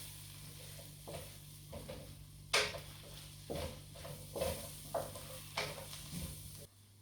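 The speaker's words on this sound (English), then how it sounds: "Stir it up a little bit." Ground spices, cumin among them, are stirred in a hot pan with a soft sizzle, broken by a series of short scraping strokes from a utensil. The sound is quiet and close.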